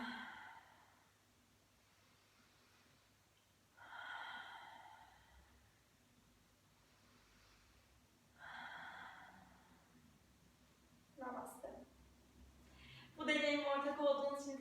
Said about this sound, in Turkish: Burundan nefes alıp ağzından nefesi bırakıyorum.